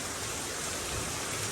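Rain pours in a steady, dense hiss during a chilly homecoming outdoors, an unbroken wash of falling water that holds at an even level without any talking.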